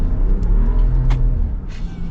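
A 2025 Ram 1500 with the high-output turbocharged inline-six engine accelerates, giving a loud, steady low rumble that builds through a couple of seconds of close engine noise.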